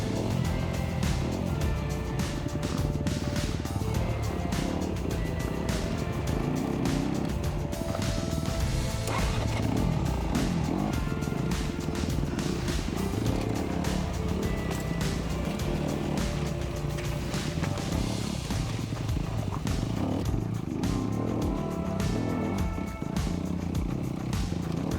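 An extreme enduro dirt motorcycle on Bridgestone Battlecross E50 tires rides off-road, a continuous loud engine roar mixed with rattling, knocking and wind buffeting, with no break over the whole ride.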